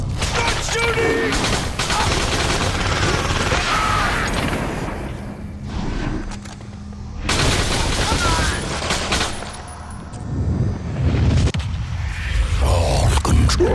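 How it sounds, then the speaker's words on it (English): Heavy volleys of gunfire in The Darkness, a loud chaotic barrage with booming impacts that dips briefly, then surges back in dense overlapping bursts. "Start shooting!"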